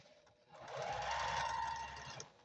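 A sewing machine runs a quilt seam, a steady close mechanical whir that builds up after a short start and holds for about two seconds before stopping.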